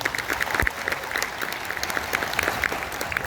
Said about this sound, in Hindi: तो जबरदस्त ताली हो जाए कल्पेश भाई के लिए